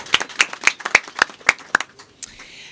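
A handful of sharp, evenly spaced claps, about seven in quick succession, from what sounds like a single pair of hands, honoring healthcare workers at a busy hospital event, fading into quiet.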